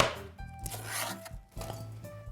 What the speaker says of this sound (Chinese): 然后把苹果去皮去核切片，我看有人是切薄片，但是我做的这个配方是切厚片的